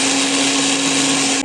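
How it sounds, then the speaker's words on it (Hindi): Blender whirring steadily as it purées boiled mustard greens for saag, a loud continuous motor drone with a strong steady hum that cuts off abruptly at the very end. "साग मैंने ब्लेंड करके रख दिया है।"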